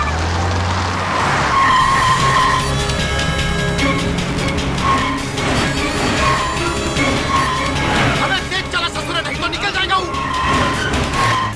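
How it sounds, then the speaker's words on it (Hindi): A car races fast along a road with engine roar and tire noise under dramatic film music and voices in a Hindi-dubbed South Indian action movie scene. "मीटर की तरफ फास्ट चलाओ ना, रात को हमें वापस भी जाना है।"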